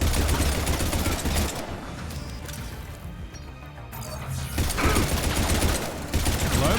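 Automatic turret gunfire in the video game Mass Effect 3: loud, continuous rapid bursts that dip briefly in the middle, then surge back, with faint voices underneath.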